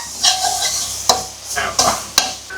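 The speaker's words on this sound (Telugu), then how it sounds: "కొద్దిగా అల్లం వెల్లుల్లి పేస్ట్ వేస్తున్నాను ఇది వేసి పచ్చివాసన పోయే వరకు ఫ్రై చేస్తా" Ginger garlic paste frying and being stirred in a pan, with a steady sizzle and a few sharp spoon scrapes against the pan, close and clear with no talking.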